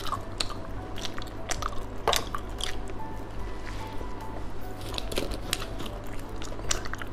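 Soft, chewy gummy candy being chewed up close: repeated wet squishes and sticky clicks in an irregular rhythm over a steady low background hum, with no talking.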